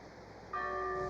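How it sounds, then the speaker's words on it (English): A bell hanging on a burial vault, stirred by the wind, starts ringing halfway through: a clear, sustained metallic tone with bright overtones that hangs steadily over a quiet, hushed background. "It's a bell. I suppose it's the one on the vault."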